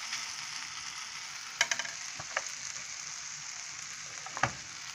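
Bologna slices frying in sunflower seed oil for breakfast, giving a steady close hiss of sizzling fat broken by a few sharp pops and spatters, with no talking.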